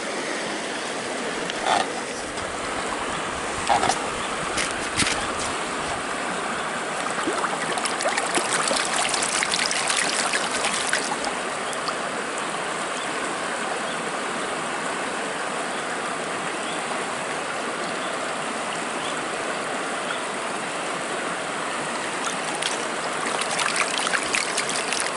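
Gold panning material is rinsed in a stream, the water rushing and trickling steadily with occasional splashes and sloshes from the pan, close and fairly loud for the whole stretch.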